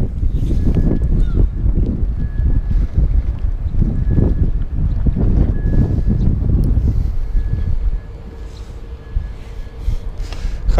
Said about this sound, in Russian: Хорошо тут, но ветрено.